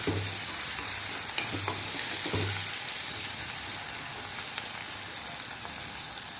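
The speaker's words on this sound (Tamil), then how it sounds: "தக்காளி நல்லா வதங்குற அளவுக்கு பார்த்துக்கலாம்" Tomatoes sautéing in a hot pan for a Salem-style kara kuzhambu, a steady dense sizzle of frying throughout with a few soft stirring scrapes near the start, close and continuous with no talking.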